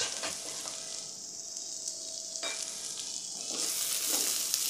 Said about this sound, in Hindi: अब चम्मच से हम इन सब चीज़ों को अच्छी तरह मिक्स कर लेते हैं। सब्ज़ियाँ हमारी तकरीबन फ्राई हो चुकी हैं।